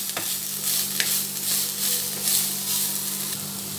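Boiled, squeezed banana flower being stirred as it fries in a pan, a steady sizzle with a few sharp scraping clicks of the spatula, close and alone without talk.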